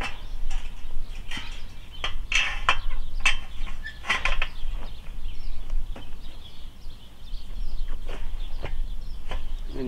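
A ratchet clicks in rapid bursts while woven wire fence strainers are tightened outdoors on a farm fence, close and fairly loud, with birds faintly in the background.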